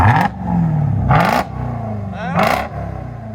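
A 2021 Dodge Durango Hellcat with a mid muffler delete and Dynomax Race Bullet exhaust gives three sharp, loud revs in quick succession, each rising and falling back over a rumbling idle, close by.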